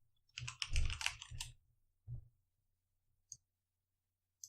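Clattering computer keyboard keys typed in a few quick bursts close up, then isolated single clicks separated by silence over a low steady hum.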